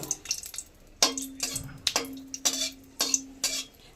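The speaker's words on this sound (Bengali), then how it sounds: "তেলে একটা লঙ্কা ভেজে নেব" A single green chili frying in hot oil in a home kitchen pan, with soft sizzling and repeated sharp clinks of a metal spatula or utensil against the pan at an uneven rhythm, close and moderately loud.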